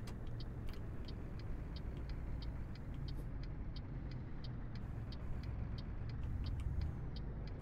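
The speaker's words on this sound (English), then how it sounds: "Like the idling of the truck engine and stuff?" A steady low truck engine rumble idles continuously in Euro Truck Simulator 2, with a faint regular ticking clatter repeating over it; no voices.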